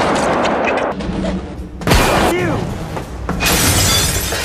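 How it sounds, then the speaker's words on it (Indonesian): Gunfire in a tense crime-thriller scene set in the yakuza underworld, with a sharp shattering burst over a dense, loud soundtrack and voices mixed in. "Jackie pun maut ditembak oleh si manajer"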